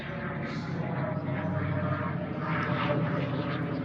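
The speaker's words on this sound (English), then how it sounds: "we've got a very loud helicopter going overhead" A loud helicopter passing overhead in an outdoor garden setting, its steady low rotor and engine roar continuous and dominant throughout without any speech.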